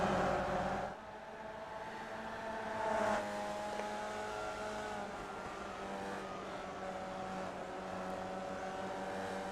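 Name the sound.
onboard race car engine in iRacing video game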